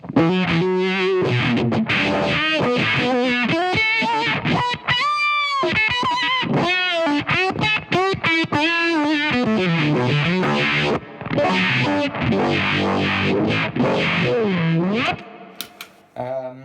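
An electric guitar runs through a Pickle vibe pedal with a La Machine fuzz, playing a loud, wavering lead line of bending notes with a thick, warbling, distorted tone that fades out at the end.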